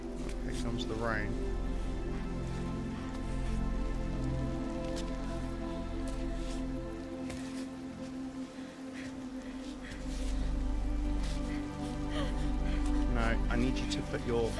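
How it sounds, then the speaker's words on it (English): Rain in the video game Cairn patters steadily beneath continuous talking and a droning musical background, with a low rumble swelling at times. "The rain."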